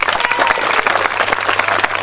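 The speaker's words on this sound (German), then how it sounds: "Applaus" A crowd claps steadily at the closing ceremony of a Real Madrid training camp in Rotenturm, a dense, continuous round of applause that fills the whole moment without a break.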